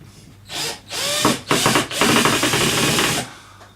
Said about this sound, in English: screwdriver, drive the screws in